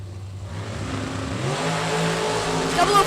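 A door car drag racing engine at a time trial builds from a low idle into a loud, steady revving roar that holds close and strong throughout.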